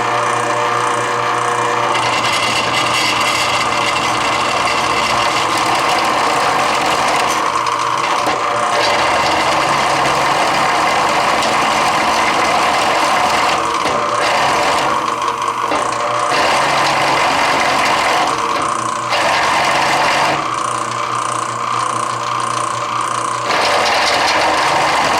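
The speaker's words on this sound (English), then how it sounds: "It is the belt that's slipping, and it's the front belt toward the front of the machine" A Sears Craftsman drill press drills thick steel while its front belt slips, giving continuous loud mechanical grinding and ratcheting with periodic surges and brief dips as feed pressure changes.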